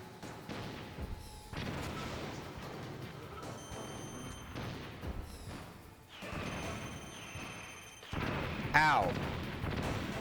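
Missile launches and explosions from Metal Gear Solid gameplay, with a Stinger missile fired amid dense, rumbling booms and game noise over about ten seconds, ending in a louder blast with a sharp synth chirp.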